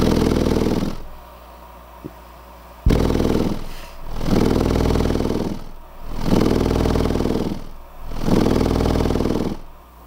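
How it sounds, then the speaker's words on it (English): A 15-inch subwoofer driver is pushed past its excursion limit so the voice coil leaves the gap, producing repeated deep droning bursts with harsh buzzing and clattering distortion, pulsing roughly every two seconds, loud and close. "you can actually hear the coil leave the gap."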